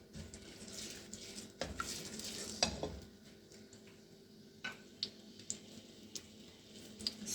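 Green chillies and golden fried onions drop into melted ghee in a pan, giving a faint sizzle with scattered ticks and clinks of a spoon against the pot, heard quietly from close by without talk.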